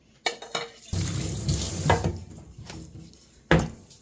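Seasoned rice and soaked shiitake mushrooms are dropped into a cast iron pot, with a few sharp clanks and a soft pouring rustle, close and without talk.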